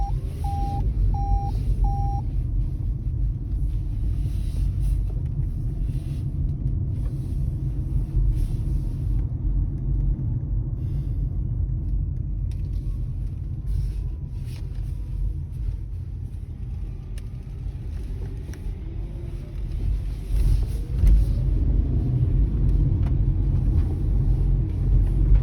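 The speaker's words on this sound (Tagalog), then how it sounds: "itong bin truck sa UK, yung mga nagko-collect ng mga basura" A UK bin lorry collecting rubbish rumbles steadily nearby for the whole stretch, with a few short reversing-style beeps at the start and occasional clanks and engine swells over the low idle.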